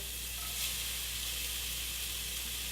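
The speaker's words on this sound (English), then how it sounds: "let's get some chunks of sausage going right here with some onion" Chunks of sausage and onion frying in a pan for sausage gravy, giving a steady, even hiss of sizzling fat, moderately quiet and constant throughout, with no one speaking.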